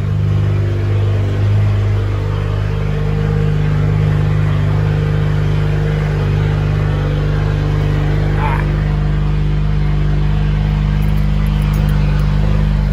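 A loud BMW M3 engine idles steadily with a deep, constant rumble throughout, and a person speaks briefly over it.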